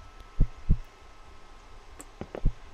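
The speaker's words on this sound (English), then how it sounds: "Why is my heart beating?" Low heartbeat thumps from the One Late Night office video game come in uneven pairs of dull beats over a faint hum, close and fairly loud.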